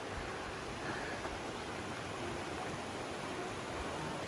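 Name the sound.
waterfall on the Appalachian Trail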